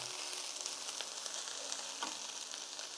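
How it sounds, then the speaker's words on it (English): Curry-style chickpea and vegetable stew with olive oil is stirred in a pot, a steady faint sizzle with light spoon scrapes and no voices. "I think I'm just going to add a little bit of olive oil and then we're just going to give it a good stir."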